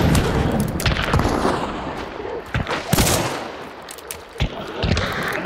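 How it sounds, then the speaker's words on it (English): Gunfire in the multiplayer game Hunt: Showdown, with several loud sharp shots and booming reports spread across a tense firefight, some close and some further off, over a busy rumbling background. "He's shooting behind him!"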